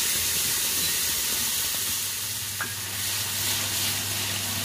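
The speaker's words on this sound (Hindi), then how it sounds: "मैं वही टमाटर अदरक और हरी मिर्च का इसमें पेस्ट डाल दूंगी और इसको हम लोग भूनेंगे अच्छी तरीके से" Tomato, ginger and green chili paste fries steadily in hot oil for a mixed vegetable curry, giving a continuous close sizzle and soft stirring scrapes with no talking.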